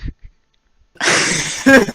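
A single loud sneeze bursts out after a near-silent pause, with a sharp voiced catch at its end; a few soft mouth sounds come before it.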